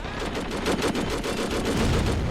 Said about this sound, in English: When you've made a machine gun that's so good it blows up tanks